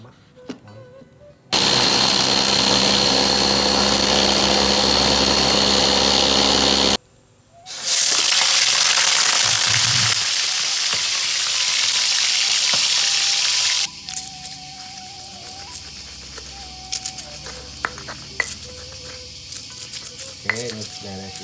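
Loud, steady sizzling of sambal ingredients frying in a hot pan, two long bursts of hissing, then quieter stirring and pan clatter with some talk.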